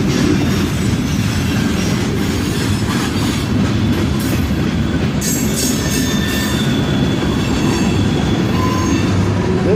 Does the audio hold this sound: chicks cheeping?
no